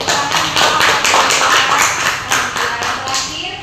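Audience members clap together at a classroom talk on child stunting, with rhythmic, slightly uneven bursts of hand claps repeating steadily, close and fairly loud throughout.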